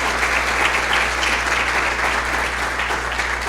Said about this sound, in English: Round of applause for some excellent double-digit growth